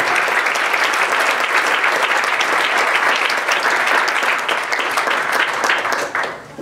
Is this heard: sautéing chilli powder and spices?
no